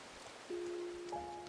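Soft, steady rain patter under a quiet sustained tone that enters partway through, joined by a second higher tone near the end.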